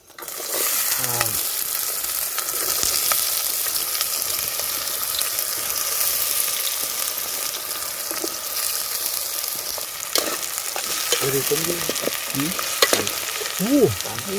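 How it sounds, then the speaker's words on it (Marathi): Onions sizzle steadily in hot oil for a village-style chicken curry cooked outdoors, with a constant frying hiss and occasional scrapes of a spoon stirring the pan, and a few brief voices in the background. "कांदा जरा मस्त फ्राय झाला पाहिजे याच्यामध्ये."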